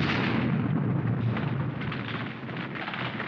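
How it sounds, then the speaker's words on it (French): A bazooka fired in a jungle action film, a heavy, booming blast that holds a dense, rumbling roar throughout and stays loud until a sudden cutoff at the end. "Et là, il va sortir le bazooka."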